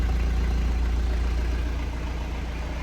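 Small 1.7-litre diesel engine idling, a steady low rumble with a fine rapid knock, close and even throughout with no voices.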